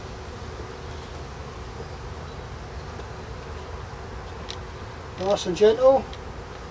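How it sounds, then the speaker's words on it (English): Honey bees buzzing softly around an opened hive frame during an early spring inspection, a low steady hum throughout with a few louder close passes near the end and a voice speaking briefly. "Now we've got bees on here."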